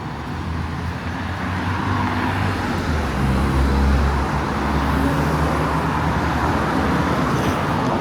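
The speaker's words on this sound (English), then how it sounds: "Ooh, a Ferrari." A Ferrari driving along a Toronto city street at night, its engine rising into a steady roar as it passes nearby over background traffic hum, no talking heard.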